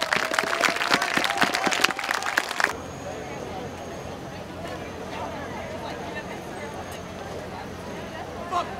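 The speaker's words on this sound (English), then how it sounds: "Everybody give me a round of applause to themselves." A street protest crowd in Washington, D.C., defying a curfew, bursts into loud, dense clapping and cheering for a few seconds, then drops abruptly to a quieter murmur of crowd background.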